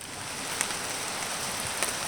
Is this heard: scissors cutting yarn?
no